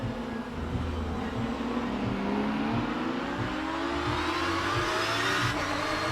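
Porsche Cup race cars accelerating around Donington Park in the racing game rFactor 2, a steady, loud engine drone with rising pitch as the pack pulls away, continuous throughout with no talking.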